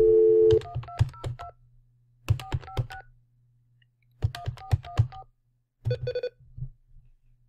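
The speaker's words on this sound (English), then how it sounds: "Let's just call the White House and see if we can't talk to somebody." Telephone being dialed to call the White House: several quick bursts of DTMF keypad tones in groups, picked up loud and close by a microphone held to the phone, with a short steady tone at the start.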